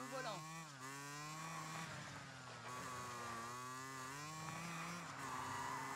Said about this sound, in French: Et y'a mon moto ici.